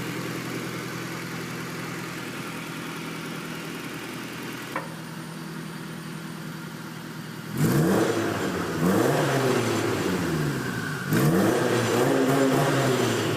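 A homebuilt car's turbocharged engine idles steadily, then is revved hard while stationary in repeated rising and falling bursts, loud and close, with no talk.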